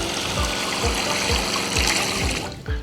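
Hot water gushing from a faucet in a Roadtrek Zion RV while its plumbing is flushed during de-winterizing, a steady close rush with faint rhythmic thumps, alone without talk.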